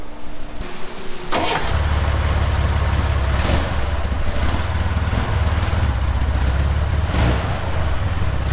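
A Chevrolet Corvair cranks and fires up, then runs loud and close with a steady rumbling engine note and slight surges as it begins driving, no voices.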